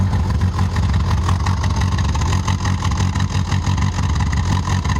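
A narrowboat's engine runs rough with a steady low mechanical chugging that sounds close and loud, its rhythm slightly uneven throughout, with no voices.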